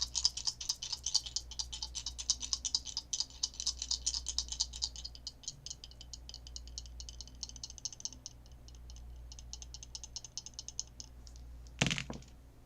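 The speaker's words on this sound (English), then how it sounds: "So now I'm gonna do the astrology dice here." Astrology dice rattle and click in quick, light bursts for several seconds, then thin out. A sharper clatter comes near the end as they land. The sound is faint and there is no talking.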